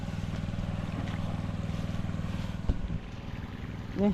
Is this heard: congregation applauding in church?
no